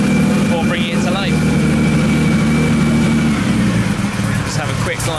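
Jaguar Lightweight E-Type with an aluminium straight-six engine running at a steady idle, a loud continuous low rumble that stays constant throughout, with a voice talking over it.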